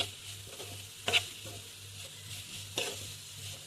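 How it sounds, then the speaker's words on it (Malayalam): Cabbage thoran with grated coconut is stirred in a pan: a soft, steady sizzle with a couple of scraping stirs, close but quiet. "ഇനി ചിരകി വെച്ച തേങ്ങയും ഇട്ട് ഒന്ന് മിക്സാക്കാം"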